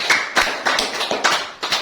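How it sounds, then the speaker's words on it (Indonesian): A small audience at a business talk claps in a few distinct bursts, each a quick flurry of hand claps, fairly close and without talk. "Tepuk tangan untuk kita semuanya."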